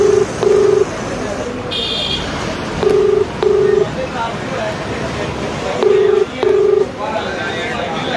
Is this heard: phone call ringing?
yes